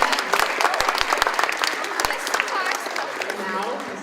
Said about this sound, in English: another big round of applause for Mrs. O'Mahony's class